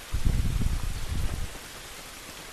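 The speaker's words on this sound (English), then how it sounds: "I'm thinking the rain's gonna help make our footsteps a little bit quieter" Rain falls in The Last of Us as a steady, even hiss of drops, with a heavier low rumble in the first half that eases off toward the end; no one speaks.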